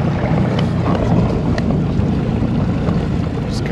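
Tracker fishing boat trolling under 5 miles an hour on open water, a steady low engine hum mixed with wind buffeting and lapping water, continuous and moderately loud.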